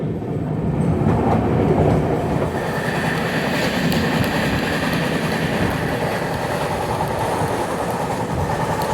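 A Visakhapatnam–Mumbai LTT SF Express runs on rails near Manmad Junction. A loud, steady rumble with a rhythmic clickety-clack of wheels over rail joints carries on throughout, heard from inside the train.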